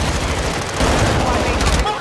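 Rapid automatic gunfire from a Call of Duty: Modern Warfare II match, loud dense bursts filling the whole moment, close and continuous.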